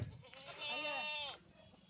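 A single close Osmanabadi goat bleat, a wavering nasal cry lasting under a second, against quiet background.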